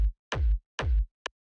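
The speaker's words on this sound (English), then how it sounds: "Just one of these like super punchy, kind of like hard-hitting techno kick samples" Dry, punchy, hard-hitting techno kick drum sample, three heavy booming thumps with sharp clicky attacks and short low decays, followed by a short clipped tick, loud and alone with no reverb.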